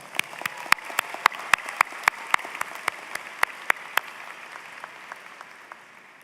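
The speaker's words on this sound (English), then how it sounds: "Graduates, give them a round of applause." A graduation audience at a George Mason University College of Science degree celebration claps for families, with a burst of sharp, close individual claps over a softer wash of applause that gradually fades away.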